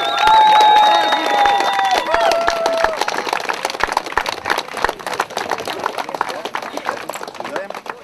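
Wedding guests at an event applauding and cheering, a dense wash of clapping that starts loud and gradually thins out, while someone talks over it early on.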